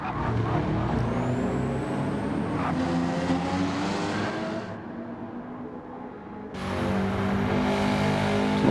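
Subaru race cars in Gran Turismo 7 drone along nose to tail, a steady engine roar with a short dip in level partway through before the pack of engines swells loud again.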